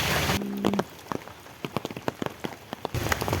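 Rain falling outdoors, with scattered distinct drops tapping a surface at an uneven rhythm, bracketed by bursts of louder, denser rain noise at the start and end.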